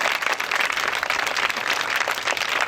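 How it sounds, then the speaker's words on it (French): Onlookers at a flag ceremony in Côte d'Ivoire clap together in a steady, fairly loud burst of applause, crisp hand claps heard without talk. "je voudrais qu'on les salue en les applaudissant"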